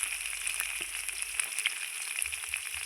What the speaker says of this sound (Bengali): খুব সুন্দর আলুটাকে আমি লাল লাল করে ভেজে নেব